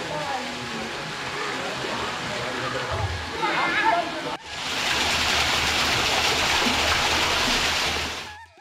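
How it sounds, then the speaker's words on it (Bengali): Fresh water pours from a spout into a temple pond at Yaganti Uma Maheshwara temple, a steady rushing splash with voices faintly underneath, then a louder, even gush after a sudden cut. "সেই বৃষ্টির যে মুখ থেকে জল পড়ছে সেটা হচ্ছে ফ্রেশ ওয়াটার"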